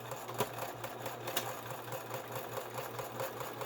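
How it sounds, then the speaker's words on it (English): A sewing machine runs a plain straight stitch through a soft fabric journal cover, with a fast, steady rhythmic chatter close by and no talking. "And I'm just going to do a straight stitch"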